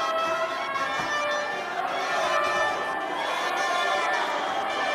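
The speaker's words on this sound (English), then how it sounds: "Very noisy crowd cheering every move as we enter the second round of the scheduled 8." A noisy crowd roars steadily at a boxing match in the second round of a scheduled eight, a dense, sustained wash of cheering and chatter with faint rhythmic clicks above it.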